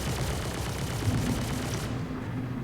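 Ship weapons firing in a Star Citizen space battle, a Raptor X in player-versus-player combat, rendered as a dense rapid burst of blasts that runs steadily and then cuts off near the end, loud and close with no voices.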